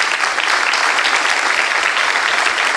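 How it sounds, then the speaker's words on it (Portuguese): A church congregation applauding during a sermon: dense, even clapping from a large crowd, loud and sustained without pause, with no voices standing out above it. "Eu acho que nós podemos aplaudir o Senhor Jesus nessa cena, não podemos?"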